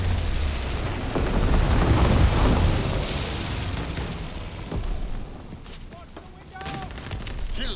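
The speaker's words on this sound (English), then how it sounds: "Enemy bomber, incendiary bombs incoming." Incendiary bombs dropped by an enemy bomber in a video game explode into a sustained roar of booms and crackling fire, loud and dense at first and then thinning out, with game voice callouts heard over it.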